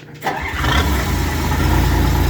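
A bulldozer engine cranks and catches after a brief quiet moment, then settles into a loud, steady low diesel rumble as the throttle is turned up, heard alone without talk.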